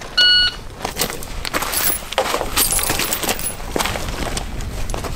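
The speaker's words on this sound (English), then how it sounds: "stand by on the beep." A shot timer's electronic beep sounds once near the start at a rimfire competition, a short loud tone followed by clattering, jangling noise and outdoor activity.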